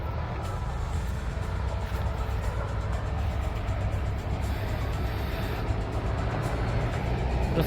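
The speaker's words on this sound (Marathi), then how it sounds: "रस्त्यावरती ट्रॅफिक पण खूप जाम आहे. गाड्या जातात आहेत." Heavy roadside traffic beside a farm with passion fruit vines rumbles past in a continuous low drone, cars and trucks blending together at moderate distance with no talking.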